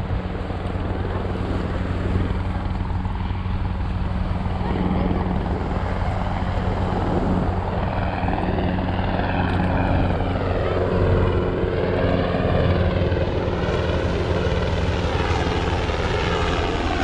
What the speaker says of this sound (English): this Blackhawk coming right here down the coastline. It's such a cool sound, the vibrations